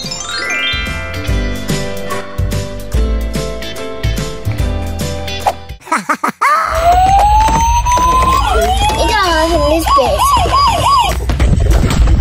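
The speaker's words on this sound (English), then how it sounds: "This is a fire truck." A toy fire truck siren, a loud electronic wailing tone rising and falling after a stretch of tinkly toy music, steady and close.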